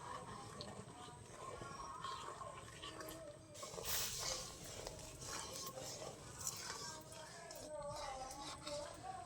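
Milk boils down in a pot while a spoon stirs it, making quiet, irregular clinks and scrapes against the metal over a soft bubbling background.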